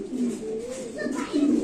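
A fancy pigeon held in the hand at a show pigeon farm gives a soft, low, rolling coo in two close bursts, near and clear, with faint background murmur.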